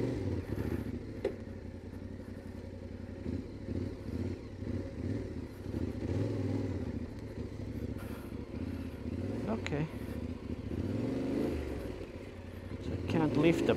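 A heavy adventure motorcycle with its engine running is walked slowly over rough ground on a trail in Poland, a low steady engine rumble with clattering and scuffing, close by, while a person talks over it.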